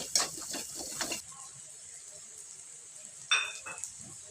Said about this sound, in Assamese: গ্ৰেভিৰ পৰা তেলটো ওলাই নোযোৱালৈকে আমি এইখিনি ভালকৈ ভাজিব লাগিব